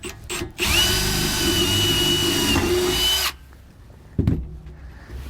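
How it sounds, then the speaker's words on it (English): A power drill whirs steadily for nearly three seconds as it bores down through the wood floor of a 2020 Grand Design Momentum RV to mount a cargo sliding tray, then stops; a couple of clunks follow. "we're just going to run it straight down through"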